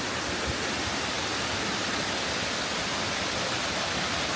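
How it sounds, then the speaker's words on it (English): Hussain Abad waterfall in Pakistan roars as a loud, dense, unbroken hiss of falling water, close by and heard alone. "Waterfall."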